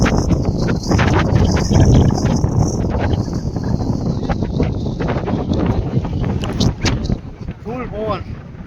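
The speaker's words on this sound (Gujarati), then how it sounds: "ફૂલ પવન." Strong wind at Rozi Port in Jamnagar roars and buffets the microphone in a continuous loud rumble, with people talking underneath it.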